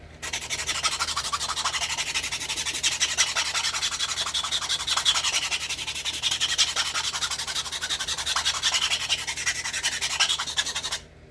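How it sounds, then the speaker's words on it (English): An antler flaker is sharpened to an off-center point for flintknapping obsidian, giving a steady, close, continuous rasping scrape that runs without pause for about eleven seconds. "When I sharpen my flakers, I also off-center them because that pulls the tip out of the pith."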